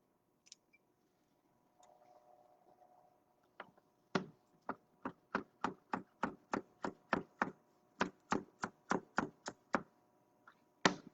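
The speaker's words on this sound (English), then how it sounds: "Just running the knife through some of these fresh parsley leaves." A knife chops fresh parsley leaves on a board: a few scattered taps, then a steady run of about eighteen crisp, evenly spaced chops, close and clear, with no talking.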